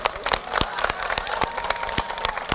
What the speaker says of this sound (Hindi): एक बार इसके लिए ताली बजाओ, कस के बजाओ ताली